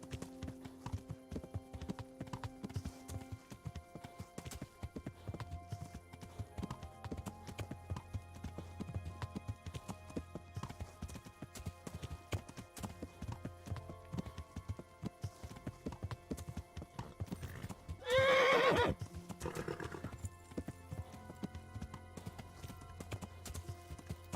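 Steady hoofbeats of a horse galloping in the video game Kingdom Come: Deliverance, with a brief louder burst partway through and a low music-like drone underneath.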